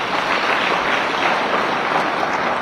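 An audience claps steadily throughout, a dense, even wash of applause at a political gathering with no voices cutting through.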